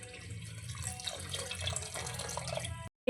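Soaked tamarind juice is poured into a simmering fish curry, a soft, close liquid splash and trickle lasting a few seconds before cutting off.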